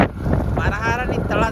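Strong, cold wind gusts outdoors, buffeting the microphone with a low rumbling roar while a person talks over it.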